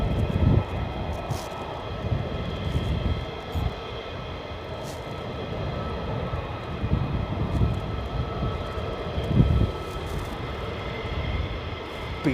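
A Boeing C-17 military transport aircraft flies near RAF Lakenheath, a sustained broad jet rumble with rising and falling low surges and a steady high whine, heard without talk.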